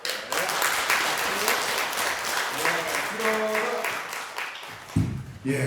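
A church congregation applauds during a Sunday service, a broad wash of clapping under a spoken voice, with a brief low musical tone near the end.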